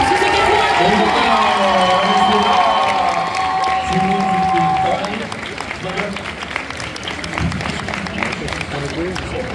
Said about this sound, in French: faites-moi tonnerre d'applaudissements